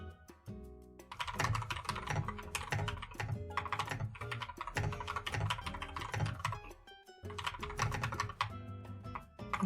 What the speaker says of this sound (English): Enjoy my keyboard sounds.